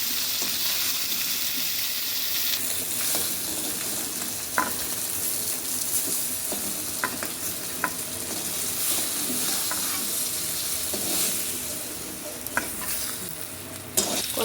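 Chopped onion sizzles in hot oil in a kadai wok for a fish curry. A steady, loud frying hiss runs throughout, broken by occasional scraping clicks of stirring.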